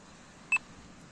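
A metal detector on a Baltic beach gives one short, bright electronic beep that stands out alone against a faint background.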